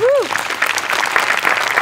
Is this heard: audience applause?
yes